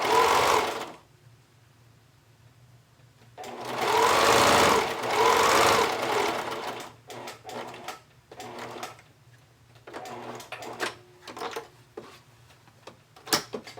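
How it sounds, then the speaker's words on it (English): A sewing machine stitches long basting stitches through layered swimsuit fabric for high-waisted bikini bottoms. It runs in a short burst, then a longer steady whir, then gives quieter intermittent clicks and handling noises. "I'm just going to really quickly baste on my sewing machine."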